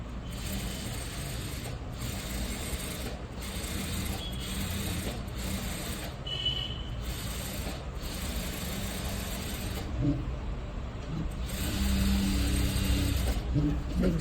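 Sewing machine stitching thread piping onto velvet fabric, a steady close mechanical whir and rapid needle chatter with brief stops and restarts, fairly quiet, no talking.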